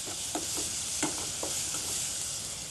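Tomatoes and curry leaves sauté with turmeric in a pan, giving a steady broadband sizzle with soft spatula scrapes and stirring taps at a close, even level, with no talking.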